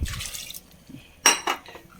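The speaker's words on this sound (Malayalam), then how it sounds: "ഒക്കെ നമുക്ക് വെള്ളം ഒഴിച്ച് കൊടുക്കാം" Water is poured into a cooking pot for a country-style curry with rock salt, giving two short splashing bursts with metal pot clinks nearby and no talk.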